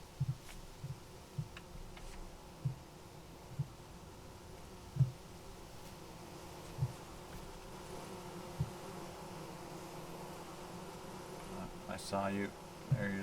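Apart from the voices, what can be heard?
bees buzzing around a beehive in the video game Vintage Story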